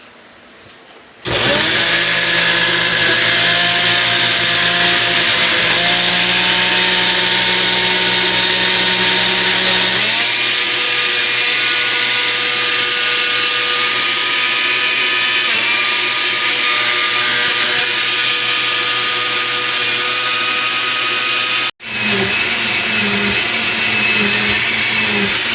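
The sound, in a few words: blender running, blending ingredients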